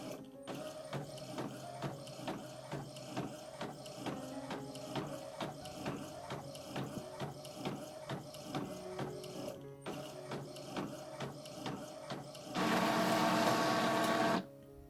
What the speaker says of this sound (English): I want to put the fabric on the front when I feed it through the printer